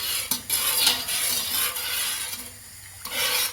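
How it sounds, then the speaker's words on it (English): Sugar being stirred in a stained pan while it dissolves for fruit tea wine, close scraping and rubbing strokes of a utensil against the pan bottom over a soft hiss, without talking. "Just keep stirring it just to make sure that it doesn't stick to the bottom"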